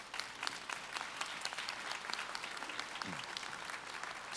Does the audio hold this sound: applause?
yes